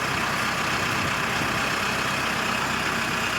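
A blue utility tractor idles with its loader lowered, the engine running in a smooth, even, continuous rumble close by, with no talking.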